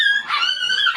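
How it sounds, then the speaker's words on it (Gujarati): A dog gives a close, high, drawn-out yelping cry, two whiny calls in quick succession with no talking. "કૂતરો આવ્યો બારે."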